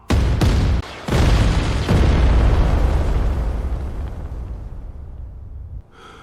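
Loud cannon fire and explosions from an animated sci-fi drama, with heavy booming bursts at the start, then a long rumbling roar that slowly fades out.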